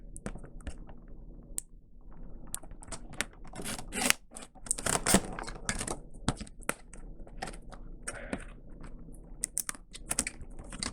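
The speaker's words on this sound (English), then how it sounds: "Now we have cut all the tape" Tape on the plastic packaging of a Power Rangers Ninja Steel Training Mode action figure being cut, giving a busy run of close, crisp crackles, snips and plastic clicks in irregular bursts, without any talking.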